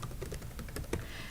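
Steady typing on a computer keyboard while building an Excel spreadsheet, a rapid run of close, crisp key clicks at an even pace, with no talking.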